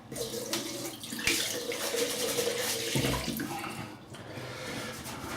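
Water splashes and runs at a sink as a face is wetted before a shave, a steady close splashing with a few louder slaps and brief dips.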